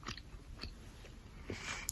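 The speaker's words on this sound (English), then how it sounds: "I don't get tingles from gum chewing. I just really enjoy how it sounds." Close, wet chewing of gum right by the microphone, a few soft sticky chomps and smacks spread over two seconds, with no voice.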